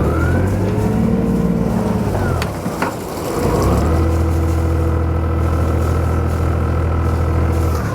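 A Sirius 310 DS boat's engine gives a steady drone with a deep low rumble that briefly dips, then swells back up as the motor revs during manoeuvring.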